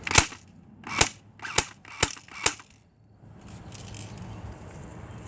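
Five sharp airsoft gun shots crack out in a steady rhythm close by, followed by a soft, ongoing hiss of background noise.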